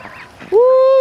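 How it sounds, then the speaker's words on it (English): Ducks on the attack give a sudden loud, nasal honk that holds steady for about half a second, close by, after a moment of quieter murmuring. "Attack of the ducks."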